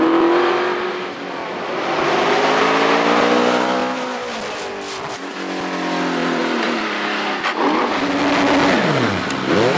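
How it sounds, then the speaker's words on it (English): A 4-litre Cosworth DFL V8-powered OMS hillclimb race car launches at a British hillclimb, its engine screaming loud and close through rising gear changes, with brief tyre squeal before the note climbs again. "Coming to the line now is the biggest OMS yet built, the 4-litre Cosworth DFL V8 power machine"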